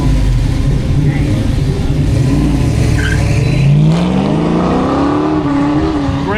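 A Corvette and a Camaro at an autocross shootout, loud engine roar rising and falling as a car revs through the course, with tire noise and an announcer talking over it.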